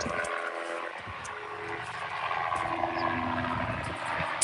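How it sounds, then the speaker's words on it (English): A helicopter flies overhead as a fairly loud, continuous engine drone with a faint rotor throb, with no talk. "Helicopter."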